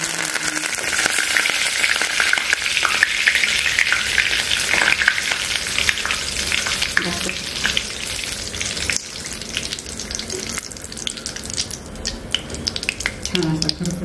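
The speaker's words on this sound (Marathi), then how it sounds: "छान असा खरपूस कढीपत्ता तळून घेतला आपण." Curry leaves frying crisp in hot oil for Lakshmi Narayan chiwda, a steady close sizzle and crackle that runs the whole time with occasional stirring clatter and no talk.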